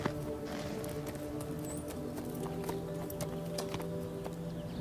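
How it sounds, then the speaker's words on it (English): Hooves of a ridden horse clip-clopping in a steady, even rhythm under a constant background hum, with no voices heard. "He is a beautiful horse"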